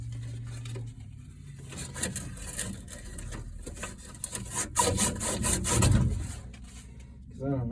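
Sandpaper rubbed by hand over a burred faucet pipe during an outdoor faucet repair, giving uneven scratchy strokes that build in intensity toward the end, with a few knocks and handling noises between passes.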